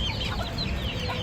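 A hen clucks in a backyard home flock, a few close, low, murmuring clucks over a steady background murmur.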